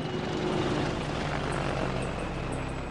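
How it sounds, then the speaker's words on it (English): Apache military helicopter hovering over a district of Baghdad, a steady, dense rotor and engine roar filling the whole stretch without a break, fairly loud and constant. "The video was filmed in July 2007 from an Apache helicopter as it hovers over a district of Baghdad"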